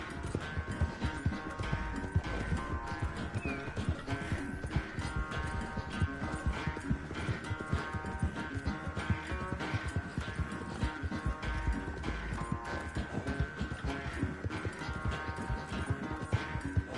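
Horse hooves clip-clop steadily in the video game Red Dead Redemption 2, a continuous galloping rhythm mixed with dense game sound and music throughout.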